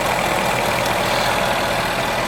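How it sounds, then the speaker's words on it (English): A Jaguar XF with a 5.0-litre V8 runs quietly at idle, giving a steady, even hum and low throb at close range with no speech. "a very quiet running engine for a large enough V8 at 5-liter displacement"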